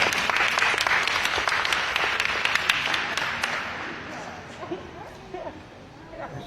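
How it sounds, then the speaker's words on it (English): An audience at a sheriff candidates' forum held in a church welcomes a reverend with brisk, dense clapping that gradually thins out. Voices can be heard as the applause dies down. "Let's give him a big round of applause."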